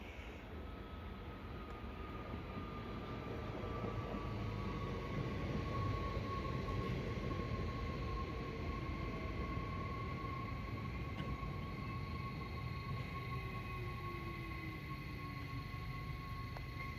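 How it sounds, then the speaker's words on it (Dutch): Train rolling into a station at Geldermalsen, Gouda Goverwelle or Utrecht Centraal, a faint steady rumble with a thin high whine that slowly falls in pitch, growing slightly louder midway and then easing off. "De trein komt het station binnen rijden."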